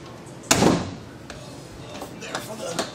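A slam-latch baggage door on a 2022 Cougar 25RES fifth-wheel trailer shuts with a single sharp bang, followed by a few lighter taps and clicks in a quiet setting.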